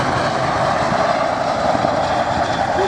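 Chinook twin-rotor helicopter performing in an air display at Culdrose, a steady loud roar of engines and rotors heard continuously at fairly close range.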